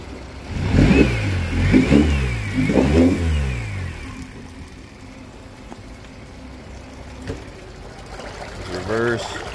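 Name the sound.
Yamaha 9.9hp short shaft 4-stroke outboard motor running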